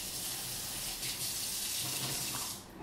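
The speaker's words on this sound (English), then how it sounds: "Now we have to throw away the water." Water gushes steadily from a kitchen sink tap as the soaking water from sliced eggplant is poured away, a continuous close hiss and splash that cuts off near the end.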